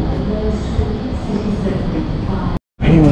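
A train rumbles steadily at a station in Sydney, a broad continuous roar at close range with a voice faintly underneath, cut by a brief gap before the noise returns.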